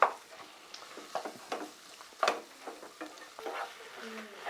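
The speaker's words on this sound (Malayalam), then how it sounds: "ഇനി ഒക്കെപ്പാടെ നന്നായിട്ട് അങ്ങോട്ട് മിക്സാക്കി കൊടുക്കാം" Noodles in tomato sauce are stirred in a pan, with soft scraping and light sizzling strokes close by, faint and intermittent, and a few quieter touches between them.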